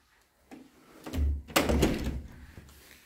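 An aluminium door in a villa apartment in Alanya, Turkey, swings and closes with a couple of solid thunks and a rattling latch, close and fairly loud, with some handling noise around it.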